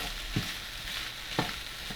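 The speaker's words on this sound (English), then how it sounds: "Now we're going to add the peppers and the mushrooms. And give it all a stir." Peppers and mushrooms frying in a pan for shakshuka, a soft steady sizzle with a few scraping stirs of a utensil against the pan.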